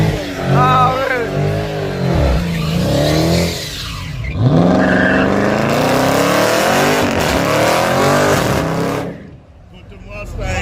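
Race car engine roaring hard under accelerating at a grudge race on an outlaw track, with a Mustang in the field; loud continuous engine noise with shifting pitch runs under nearby talk and cheering before cutting off near the end.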